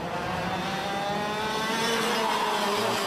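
Junior X30 racing karts run past at Whilton Mill kart circuit, a dense layered engine drone with rising and shifting pitches from several karts at once, loud and continuous.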